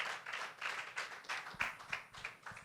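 Applause from an event audience welcoming a speaker at a business roundtable, rendered as a fairly quiet, distant patter of claps pulsing in uneven bursts.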